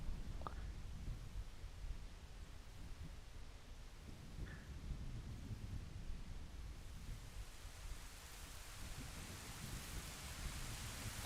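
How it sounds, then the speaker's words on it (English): Rain and thunder in the video game Ocarina of Time, a faint, even wash of rainfall with low rumbling underneath and no voices. "It's raining too and it's thundering."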